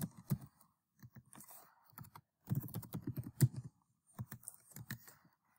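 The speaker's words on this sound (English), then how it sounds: "I can type in my names." Names typed into an Excel spreadsheet on a computer keyboard, quick bursts of close key clicks with short pauses between words, alone and fairly quiet.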